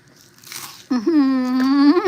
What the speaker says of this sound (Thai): ฟังเคี้ยวก็รู้นะคะ ว่ามันกรอบมากแค่ไหน